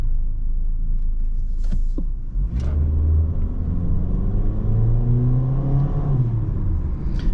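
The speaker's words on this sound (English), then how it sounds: "I really wish they don't sound this loud on the highway" Steady road and engine rumble inside a 2023 Honda HR-V cruising on the highway, a loud continuous low drone with a CVT engine note rising and falling, no talking.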